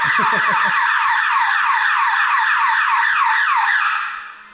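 Storage unit alarm going off: a loud, close electronic wail that sweeps up and down in rapid repeating cycles and stops abruptly after about four seconds.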